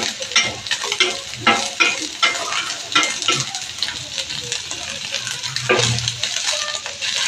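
An egg fries in a pan, kept soft and only lightly cooked, with a steady sizzle and scraping stir strokes at close range. No voices are heard.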